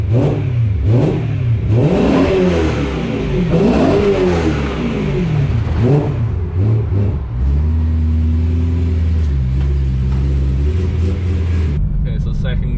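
A BMW E92 M3 V8 with a carbon plenum and intake revs hard several times in second gear, rising and falling in pitch, then settles into a steady, deep rumble as the car cruises.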